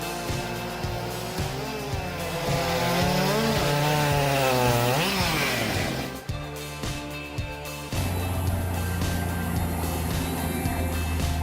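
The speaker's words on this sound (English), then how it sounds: "Both chainsaws exhibited exceptional power and precision, making the competition incredibly close." A big chainsaw cuts into a tree, its engine revving and wailing in rising and falling pitch, then dropping to a rough idle and surging again, loud and close throughout.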